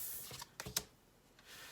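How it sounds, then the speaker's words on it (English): Tarot cards being shuffled, a few soft quick riffling clicks close by in a quiet room, faint and brief. "some of the cards like to flip around in the deck sometimes while I'm shuffling."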